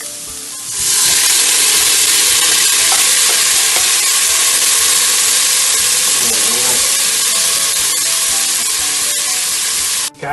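Chopped tomatoes tipped into a pan of frying vegetables and carrots, setting off a loud, steady sizzle that holds for several seconds along with occasional stirring scrapes.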